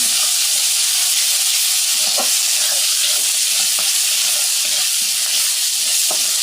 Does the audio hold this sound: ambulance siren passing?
no